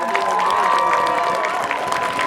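A crowd at a football game applauds the St. Albert Marching Band, with steady, dense clapping and cheering sustained at close range for a couple of seconds.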